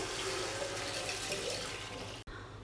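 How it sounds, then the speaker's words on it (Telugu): Steady chicken stock pouring into a pot, a continuous splashing wash that runs evenly and then cuts off abruptly near the end. "ఆ వాటర్ అన్ని ఇప్పుడు యాడ్ చేస్తున్నానండి"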